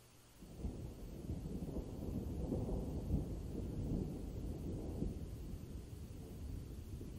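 A long, low roll of thunder rumbles in from a distance, swelling and lingering, with faint rain-like hiss underneath.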